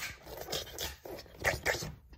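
A cute puppy in a cartoon Mario and Luigi adventure gives a handful of short, quiet yips and whimpers in quick succession, heard on their own.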